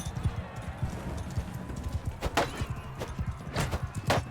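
Horse hooves clip-clopping in the Mount and Blade Bannerlord video game, a rapid irregular galloping patter mixed with combat clatter and sharp impacts, under faint talk.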